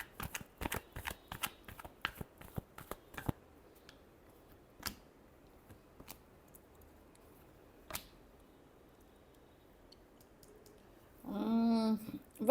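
Tarot cards are shuffled by hand in a quiet room, with a quick flurry of crisp riffling snaps up front, then sparse faint flicks, before a voice begins speaking at the end.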